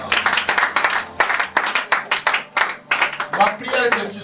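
A church congregation claps in a quick, uneven rhythm and cheers in praise of the Lord, the loud bursts of applause blending with shouting voices throughout.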